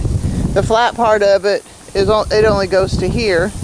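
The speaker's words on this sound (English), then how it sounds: "and I'm sorry about the wind" Strong wind buffets a microphone outdoors, a loud low rumble that keeps surging beneath someone talking throughout.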